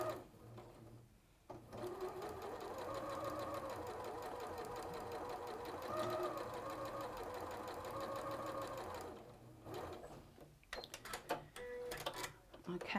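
A sewing machine runs steadily while stitching a quilt seam, a close, continuous whirring hum with rapid needle chatter for several seconds, then stops; brief stretches of talk surround it at the start and end.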